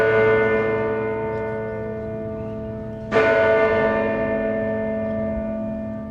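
A clock bell in a city square strikes once at about the midpoint, loud and near, its rich ringing tone decaying slowly over a steady sustained hum, marking the start of a two-minute silence at a Remembrance Sunday service in Portsmouth.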